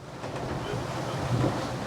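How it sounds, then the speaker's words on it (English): The hull of an Excess 13 sailing catamaran pushes through open-sea waves with a steady, close rush of water and surf, mixed with wind buffeting, and a slightly louder swell of water near the end. "that is just the noise of the hull going through waves"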